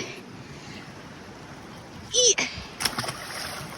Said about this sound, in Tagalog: Let's put this in the water.